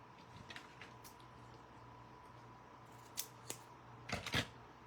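Scissors snip through paper at a paint party, a few faint quick cuts followed by a louder double snip near the end over a quiet room hum.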